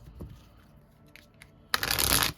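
A deck of tarot cards is shuffled once, quiet faint handling at first, then a loud dense riffling burst lasting under a second close by, with no one speaking.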